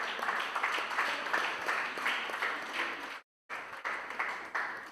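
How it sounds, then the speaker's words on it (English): Audience applause at a festival grand finale, a dense, steady wash of many hands clapping that cuts out briefly near the end before resuming. "Kindly give them a big applause."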